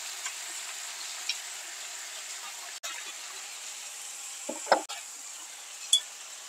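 Chopped tomatoes, seasoned with salt and black pepper, sizzle quietly and steadily in a covered frying pan, broken by a few sharp clicks and the short scrape of a spoon stirring. No one speaks.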